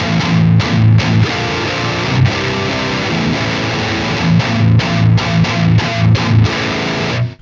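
Heavy chugging distorted electric guitar played through a Bogren Digital MLC S_Zero amp sim, tight palm-muted riffs with short rhythmic stops and bursts, loud and continuous for the whole stretch, no talking.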